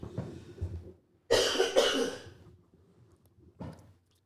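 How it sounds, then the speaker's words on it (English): Two harsh coughs close together, followed after a pause by one more cough, close to the microphone with near silence between. "I'm about ready to cough, and I don't want to cough in y'all's ears."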